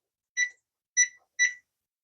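A kitchen timer gives three short, bright electronic beeps in an otherwise silent room while being set for baking a lemon cake.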